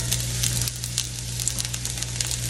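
Onions hiss and crackle as they fry in oil in a skillet, a close, steady sizzle with scattered pops and a low hum behind it.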